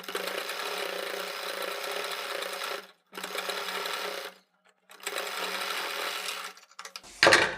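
A sewing machine runs in three steady, loud bursts separated by short pauses while stitching piping onto a round kurti neckline, with a sharp clatter at the end.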